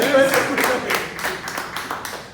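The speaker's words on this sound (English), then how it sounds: "Round of applause to all." Audience at a Toastmasters icebreaker speech claps briefly, several distinct hand claps in an uneven burst that fades, with talk mixed in.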